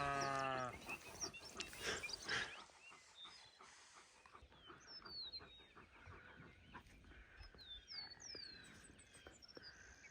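Loud sheep bleats in the first seconds, then quieter farmyard sound with scattered high chirps and calls continuing in the background.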